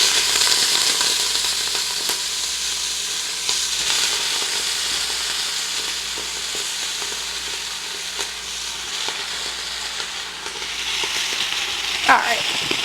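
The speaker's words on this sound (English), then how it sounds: "And then we're going to throw all our lettuce in the bacon grease too." Lettuce wilting in hot bacon grease sizzles and fries steadily in a pan, a continuous bright hiss with occasional stirring clicks and a brief scrape near the end.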